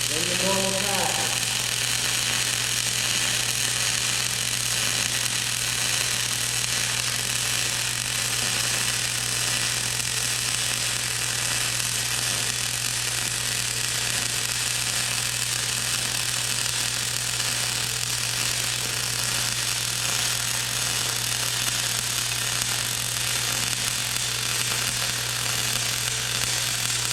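MIG welding on a flat steel T-joint gives a steady, continuous crackling buzz with a low constant hum underneath, lasting the whole stretch at even loudness.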